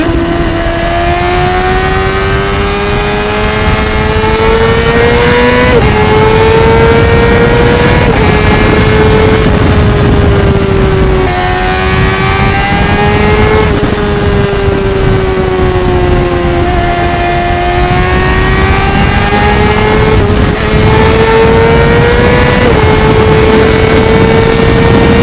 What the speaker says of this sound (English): Every time I let off the throttle, basically you get either one pretty big bang or two